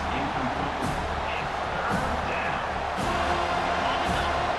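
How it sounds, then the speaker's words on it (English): A stadium crowd roars in EA Sports College Football 25 as the defense digs in down in the red zone, a dense sustained cheer with a few sharper bursts and whoops, loud and steady throughout. "the crowd coming to life here, trying to help this defense down in the red zone"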